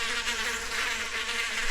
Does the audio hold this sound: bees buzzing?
yes